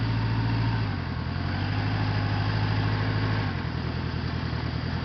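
A 1977 Honda CB750A Hondamatic motorcycle rolls through a parking lot in low gear, its engine droning close and steady with a deep throb that drops in pitch twice as the revs ease.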